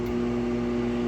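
A 240 volt microwave oven drawing about 3,200 watts runs with a loud, steady electrical hum and a constant whirring drone, with no talk.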